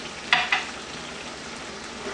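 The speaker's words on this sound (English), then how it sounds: "Just saute it well." Whole peppercorns and a bay leaf sizzle steadily in hot oil for a lamb curry, with two sharp spits near the start over a continuous frying hiss.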